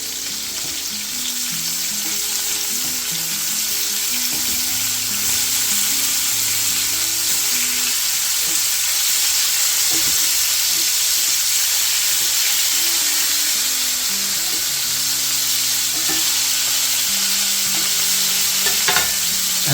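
Pork pieces for bun cha sizzle and fry steadily in a pan as they are flipped over, a loud continuous crackle with clattering tonal bumps from the pan and utensil throughout.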